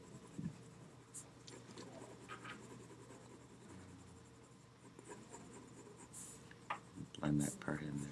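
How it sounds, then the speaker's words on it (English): Mechanical pencil shading across paper in a drawing lesson, a soft continuous scratchy rasp of graphite running steadily under background hum, with a voice speaking briefly near the end. "you have your mechanical pencil you can use"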